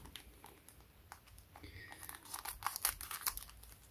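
Goddess Story trading card packs are torn open with crinkly foil rustling and sharp tearing that grows busier and louder toward the end, close up, with no talk.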